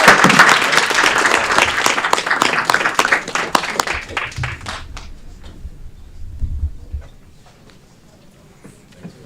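Loud applause from a crowd at a city council meeting, dense clapping that gradually thins out and fades toward the end.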